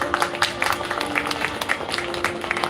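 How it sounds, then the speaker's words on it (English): Awards event audience giving a round of applause, a steady patter of many hands clapping at moderate distance, fairly soft, with a faint tone humming underneath. "A huge round of applause."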